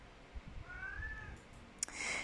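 Maxou, a pet cat, lets out a drawn-out rising and falling meow, fairly faint against a rustling indoor background, followed by a brief sharp noise.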